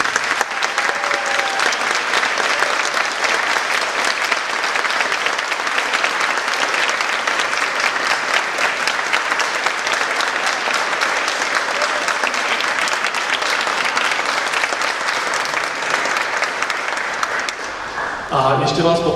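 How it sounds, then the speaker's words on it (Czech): Sustained applause from a theatre audience at a live show in Prague as a guest actress and dubbing artist is welcomed onstage, steady dense clapping for most of the clip before tapering off at the end. "Tleskám a klaním se"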